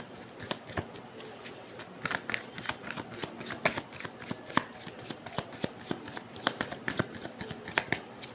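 Tarot cards being shuffled and drawn, a close series of soft, irregular papery flicks and snaps over a faint background.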